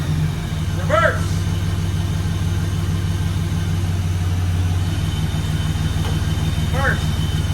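A 1995 Chevy Cheyenne truck with a 4.3 engine and NV3500 transmission, driving on a fresh clutch, a steady low engine drone and idle throb with brief squeaky chirps near the start and end.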